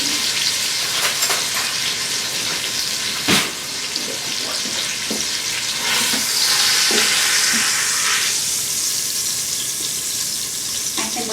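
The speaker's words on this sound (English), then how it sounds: "while that is browning on the second side" A pot roast browns in an Instant Pot with a steady, close sizzle that runs throughout, broken by a sharp clank and a few soft scraping knocks.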